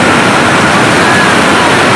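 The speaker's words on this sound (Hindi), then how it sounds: "सीधा पानी ग्लेशियर से आ रहा है और कितने तेज साउंड है पानी का" Loud, steady rushing of glacier meltwater flowing straight down from a glacier near Pahalgam on the Amarnath Yatra route, a dense broadband roar filling the whole clip with no breaks.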